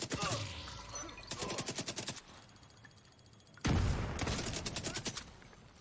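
Light machine gun fire in The Division 2, with two long bursts of rapid automatic shots, a quieter pause between them, and a heavy thump opening the second burst.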